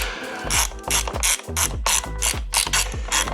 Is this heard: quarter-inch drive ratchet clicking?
yes